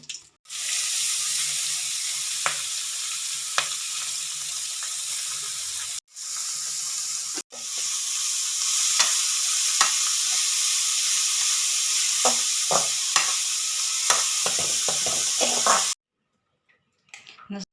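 Chopped onion and beetroot tipped into a hot pan, sizzling and frying loudly and steadily at close range, with scattered clicks and scrapes of stirring and a brief pause partway through.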